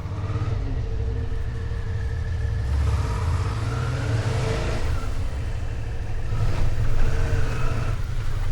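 A motorcycle rides south along the Trans-Labrador Highway, its engine droning steadily with a low rumble and wind noise, rising slightly toward the end, close and continuous with no talk.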